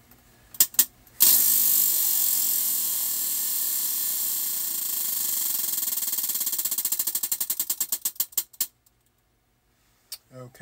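A prize wheel spins with rapid ratcheting clicks that gradually slow into separate ticks before stopping, preceded by a few sharp clicks.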